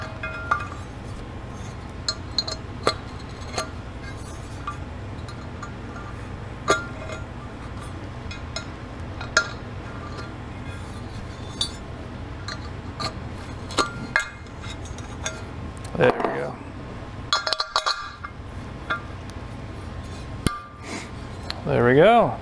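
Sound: deburring a drilled hole in metal trim bender part

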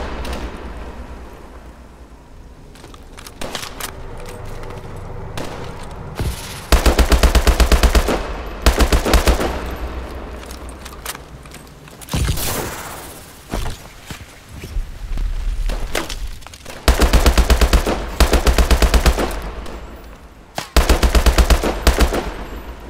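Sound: gunfire in a firefight, video game Call of Duty: Advanced Warfare

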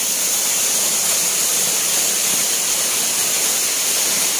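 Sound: waterfall, Fikong Falls in Sarangani Province

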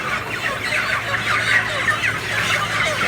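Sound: chickens clucking

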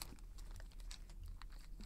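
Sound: plastic vinyl wrapper being peeled off bread

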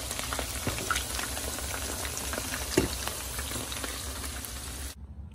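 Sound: chicken frying in oil

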